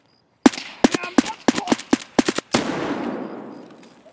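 Burst of rapid gunfire in Escape From Tarkov on the Lighthouse map: sharp, loud shots in quick irregular succession, then a long echoing tail that fades out.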